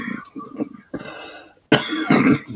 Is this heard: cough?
yes